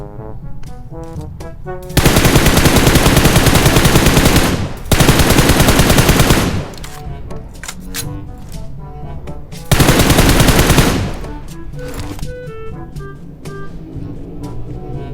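PUBG Mobile video game gunfire: loud sustained bursts of rapid automatic shots, three long volleys separated by quieter stretches with lighter scattered shots and a faint voice underneath.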